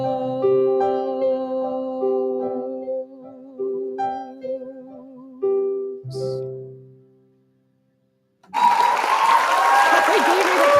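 Sung piano-bar music fades out, then after a brief silence a loud applause sound effect bursts in near the end and carries on steadily to the close.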